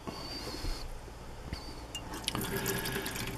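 Water from a fresh water tank runs into a campervan sink, a continuous trickling splash with a few clunks and clicks near the end, close by and fairly quiet.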